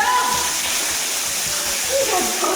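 Water splashes steadily down like a natural shower inside a cave in Samar, Philippines, a continuous close rushing patter with voices talking over it.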